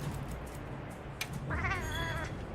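A Palico cat companion in Monster Hunter Wilds gives a short wavering meow over a low game backdrop, preceded by a brief click, with no voices.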